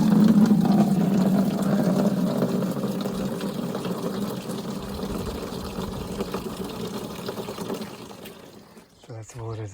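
Steady pouring and splashing of water from a bucket onto plants runs for several seconds, loud at first and gradually easing, with a brief voice near the end.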